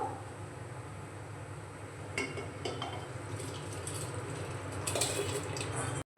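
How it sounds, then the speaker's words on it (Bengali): Washed rice pours into a pot of boiling salted water with a little white oil, making a steady rushing, bubbling wash of sound with a few light clinks of metal against the pot. "জলটা ফুটতে শুরু করেছে এখন আমি ধুয়ে রাখা চালটা দিয়ে দেবো"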